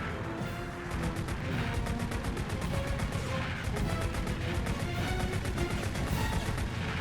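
Rapid bursts of gunfire from an Xbox video game rattle along almost without pause, dense and loud, with booming impacts mixed in and no talking over them.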